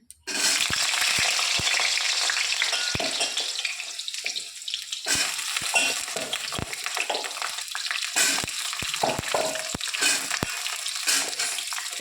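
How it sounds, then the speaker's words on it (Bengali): Pointed gourd (potol) pieces fry in hot oil with a loud, steady crackling sizzle that runs throughout, punctuated by sharp clicks of a utensil against the pan. "তেলটা গরম হয়ে গেছে এবার পটলগুলো দিয়ে দেবো এর মধ্যে"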